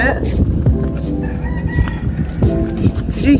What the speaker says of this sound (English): The roosters are everywhere.